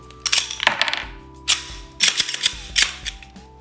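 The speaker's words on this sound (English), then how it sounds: "I'm gonna clear this weapon." Glock 17 pistol being cleared and unloaded, a series of sharp metallic clacks and slide clicks in uneven bursts, close and loud, over a steady low hum.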